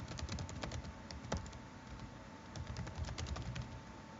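A computer keyboard clicks in quick, irregular bursts of keystrokes, steady and close, with a faint hum behind it.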